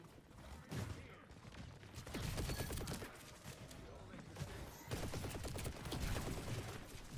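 Rapid weapon fire from shooting enemies in the game Overwatch comes in dense bursts and sustained fusillades, loud and close, with a person talking over parts of it.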